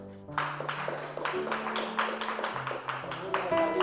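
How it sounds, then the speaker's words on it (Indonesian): Junior high school students in a classroom clap in a quick, patterned rhythm, sharp claps ringing out over continuous talking. "Beri tepuk tangan dulu"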